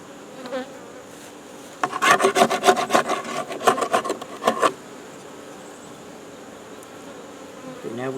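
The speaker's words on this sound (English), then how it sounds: "now we got to get these bees from back here" Bees in a hive box inside a beetle-trap setup, with a steady insect hum. A few seconds of scraping and rubbing against wood sit over the hum, then it settles back to the background drone.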